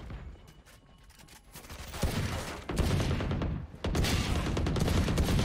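Burst of rapid gunfire in the tactical shooter Valorant, swelling from quiet into loud sustained volleys of shots with brief gaps between them.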